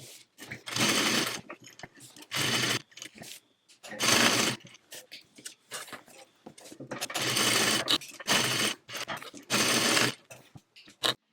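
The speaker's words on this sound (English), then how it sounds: "we're going to stitch down one side, across the bottom, and up the other side on both of these" Sewing machine stitching a side and bottom seam of a tote bag about 1/8 inch from the edge, running in five loud bursts separated by short pauses.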